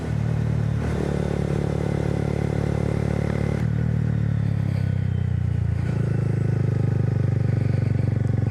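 A 2022 Honda Grom motorcycle rides along a quiet 25 mph road during its break-in period, its small engine droning steadily and loudly close by, pitch shifting slightly as the throttle changes, with faint clatter over the hum.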